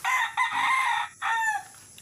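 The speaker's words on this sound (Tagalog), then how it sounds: "May alaga po ako mga manok dito." Pet rooster crowing close by, two loud harmonic crows in quick succession, the second trailing off, with no talk.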